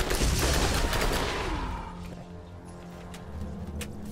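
Dense video game gunfire in Borderlands 1 crackles in a rapid volley that is loudest at the start and then thins to scattered shots.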